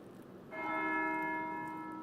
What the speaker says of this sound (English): That's the bell for sext.